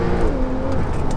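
A 580 bhp Porsche 911 Turbo S accelerates in Sport Plus mode, heard as a brief, close, deep engine rumble and roar from the cabin, with no talk over it.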